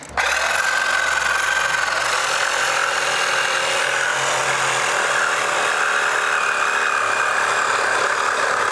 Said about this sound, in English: I'll go grab the sawzall and cut it.